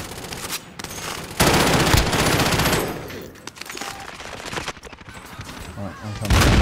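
Bursts of automatic gunfire in the shooter Warzone, loud volleys and sharp shots coming in waves with brief lulls between them.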